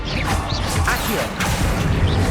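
A spell effect from the Hogwarts Legacy video game: a dense, steady burst of magical whooshing and crackling that runs throughout, with a few brief swishing flourishes.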